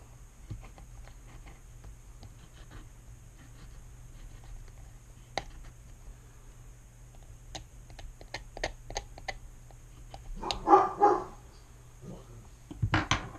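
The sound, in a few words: dog Remy barking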